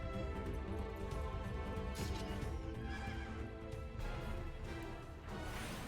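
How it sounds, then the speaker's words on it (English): A video game horse whinnies loudly over clopping hooves and a busy game soundtrack, the neigh rising and falling in the foreground. "Fighting a literal freaking horse."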